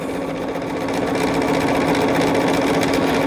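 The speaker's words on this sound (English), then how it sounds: "I'll sew the top 2 together to make the top of the block" A sewing machine stitches quilt block pieces together in a fast, steady, continuous mechanical rattle, close and loud, with no voices.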